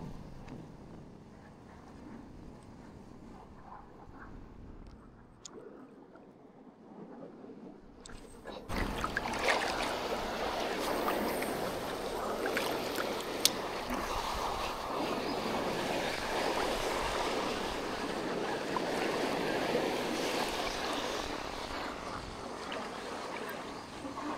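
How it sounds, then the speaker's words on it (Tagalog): Strong seaside wind blows across a fishing spot at Lipata, Padre Burgos, Quezon. Gusts roar into the microphone and surge to a loud, steady rush partway through, mixed with surf and water noise. "Nalakas ng hangin."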